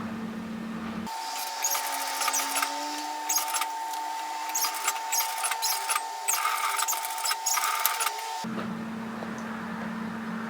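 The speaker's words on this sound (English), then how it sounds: "just to curve this round and keep stitching until we meet the next notch position here" A sewing machine stitches a curved seam on a messenger bag. Its steady motor hum and rapid needle chatter run for about seven seconds, then stop abruptly.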